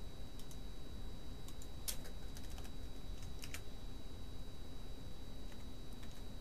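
Someone types code into a computer keyboard, producing quick, irregular clusters of light key clicks at close range, faint and without talking over them.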